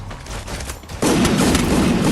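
Rapid gunfire erupts in a battle royale video game, a sudden loud sustained burst of shots after a quieter stretch of distant firing.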